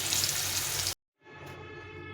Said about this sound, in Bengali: প্রথমে আলুটাকে একটু ভেজে নিয়েছি, লাল লাল করে ভেজে নিতে হবে।